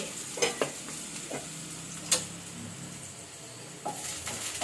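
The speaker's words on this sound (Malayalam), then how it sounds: "ഇനി ഈ ഉള്ളി ഒന്ന് വഴന്ന് വരണം" Onions sautéing in a pan for a home-cooked curry, a steady close sizzle broken by a few sharp scraping stirs, with no talking.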